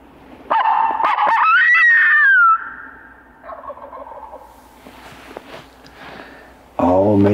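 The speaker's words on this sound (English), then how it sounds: "I got three birds gobbling along this line of ridges." Wild turkeys gobbling along a line of mountain ridges, one loud close rattling gobble followed by fainter distant gobbles carrying from farther off, with another loud burst at the end.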